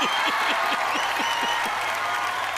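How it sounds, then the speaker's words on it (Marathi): Audience applause fills a comedy stage show, a steady, dense clapping from a large crowd heard close and continuous throughout. "नाही मी त्यांना सांगायला म्हणलं टाळ्या वाजवा"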